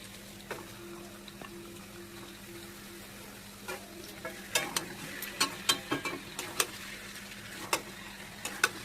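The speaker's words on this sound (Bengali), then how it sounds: "তারপর আমরা চিকেনগুলো অ্যাড করে ভালো করে কষিয়ে নিলাম।" Chicken pieces for a curry fry quietly in a pan while being stirred, a low sizzle broken by a run of sharp spoon scrapes and taps in the second half.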